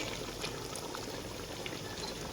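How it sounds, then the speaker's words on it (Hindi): A cup of yogurt going into beef korma masala and meat in a pot, heard as a continuous soft wet pouring and sizzling wash at steady level, without speech. "1 प्याली हम दही की ऐड करेंगे"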